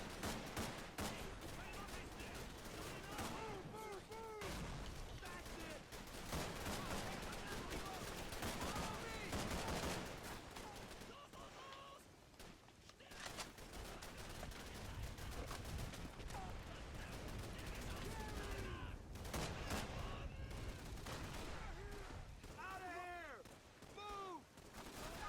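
Sustained machine gun and rifle fire in Call of Duty 3, dense bursts of automatic shots continuing through most of the stretch, with battlefield noise and occasional voices mixed in.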